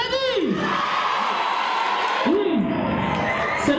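Crowd at a spelling-contest preselection in Gao cheering and whooping, with broad noisy clapping and shouts filling the whole stretch, loud and close, with voices rising over it.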